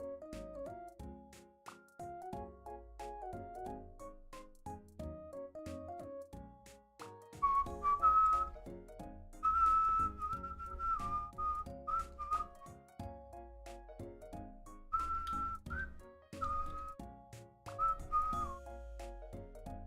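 A person whistles a melody, moving through clear held notes and quick runs over about twenty seconds, with musical backing underneath and no talk.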